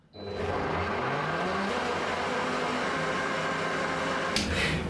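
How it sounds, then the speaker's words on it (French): A kitchen blender whirs steadily for several seconds, mixing chunks of food, loud and close with a slight sweep in pitch and no talking. "c'est le moment de mixer"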